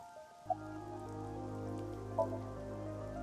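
Soft, steady rain patters in the video game AI: The Somnium Files, a faint continuous wash under sustained background music, with two small drip-like ticks and no voices.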